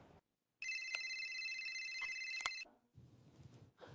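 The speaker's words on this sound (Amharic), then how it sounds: "ዶክተር ስልክ ነው ሆዴ ውስጥ የሚጮኸው።" A mobile phone rings from inside a person's belly after surgery, a bright electronic ringtone sounding steadily for about two seconds, loud and close, then cutting off into quieter rustling and faint movement.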